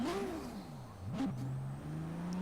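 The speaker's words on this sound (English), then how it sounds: "And the car sounds really good too." A sports car engine in Forza Horizon 3 hums and revs, pitch rising and falling as it accelerates, steady and close with no talking.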